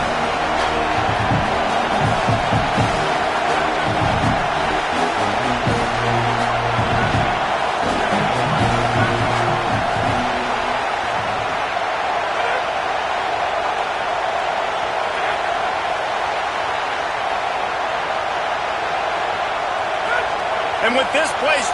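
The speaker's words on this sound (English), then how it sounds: "with this place rocking, the crowd forces a false start" A packed football stadium crowd roars loudly and continuously, a broad wash of noise that holds steady throughout, with a commentator talking over it in the first half.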